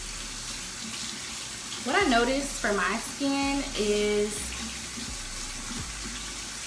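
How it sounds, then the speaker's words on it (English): Lukewarm tap water runs steadily from a faucet into a sink while a face is being wet, a constant close hiss beneath someone speaking throughout. "I'm just going to kind of wet my face with lukewarm water, not too hot and not cold."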